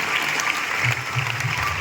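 Steady applause from an audience at a felicitation ceremony for NEET achievers at Channabasaveshwara Gurukul, dense continuous clapping filling the hall.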